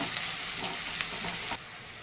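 Chopped onion sautéing in a pan until brown while cooking a ridge gourd vegetable dish, giving a steady, close sizzle with faint stirring scrapes throughout.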